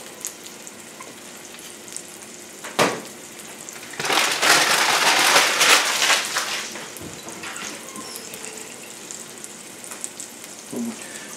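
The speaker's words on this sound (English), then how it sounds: "we're going to take and slap that into the pan. You hear the sizzle." A loud burst of sizzling as a ribeye steak hits a hot pan, settling into steady crackling frying with a few clanks.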